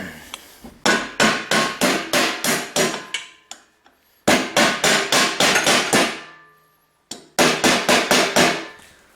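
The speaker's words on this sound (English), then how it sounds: "I'm just going to take a socket and a rubber mallet and just see if I can pop this thing loose" Rubber mallet hammering on a socket to free a stuck pulley on a Toro 521 snowblower auger impeller: three loud, close bursts of rapid, evenly spaced blows with short pauses between them.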